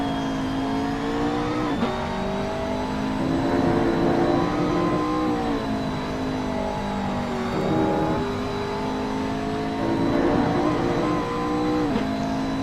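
McLaren race cars in a racing video game at the Red Bull Ring, engines rising and falling through gear changes in a continuous close roar, with no talk.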